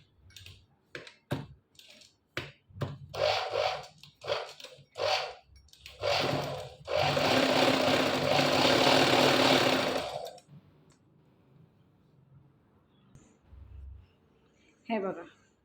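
A sewing machine runs in a steady burst of about four seconds, stitching a fabric strip in place of piping. Short clicks and handling noises come before it, with quiet movement afterward.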